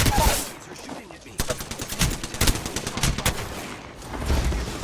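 Rapid bursts of gunfire from the Apex Legends video game, sharp repeated shots through the middle of the clip with game ambience around them and some voice in the mix.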